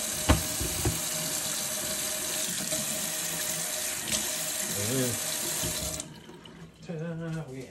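Water splashes onto an Atoma 140 diamond sharpening plate before honing an S35VN steel blade, a steady close running-water hiss for about six seconds that stops, followed by quieter handling sounds.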